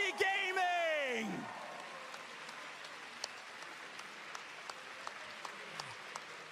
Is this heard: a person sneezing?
no